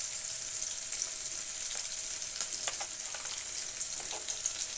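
Onions frying in hot oil, a steady close hiss of sizzling with faint crackles and occasional stirring scrapes throughout, no voices.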